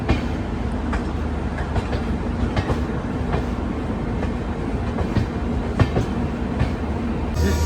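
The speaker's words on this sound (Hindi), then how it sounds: "जिस ट्रेन का हम इंतज़ार कर रहे थे वो ऑफिशियली एंटर कर रही है" An express train rolls into Sakleshpur station in Karnataka, a steady rumbling clatter with rhythmic wheel clicks on rail joints and occasional metallic knocks, continuous and fairly close throughout with no talking.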